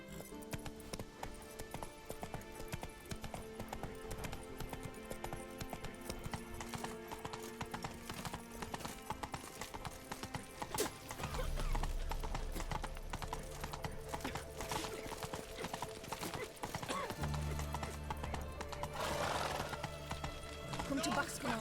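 Geralt's horse Roach in The Witcher 3 gallops with a fast, steady drumming of hooves, close and loud, broken by a snort or whinny, while people talk over it.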